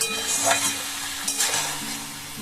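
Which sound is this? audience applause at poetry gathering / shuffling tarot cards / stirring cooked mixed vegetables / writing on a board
stirring cooked mixed vegetables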